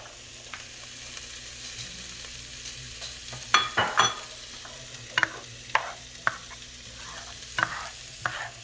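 Onions sizzle softly in a pan while a utensil scrapes and clatters in several stirring strokes, close and fairly quiet with no voices.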